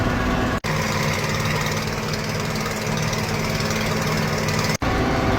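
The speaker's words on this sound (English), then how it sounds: "Lost a exhaust manifold gasket, so we get to listen to this motor tick all day now" A Massey Ferguson 4900 tractor engine runs loud and close with a rapid, steady ticking knock in its rumble from a blown exhaust manifold gasket, briefly cutting out twice.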